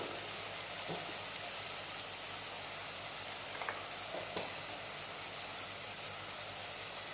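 Ginger garlic paste and turmeric fry in a pan with a steady, even sizzle and faint hiss, broken by a couple of soft clinks, with no talking.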